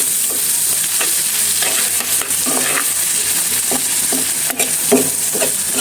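Shrimp fry lightly in oil in a home kitchen, giving a loud, steady, dense sizzle that runs unbroken throughout with occasional soft pops and no voices.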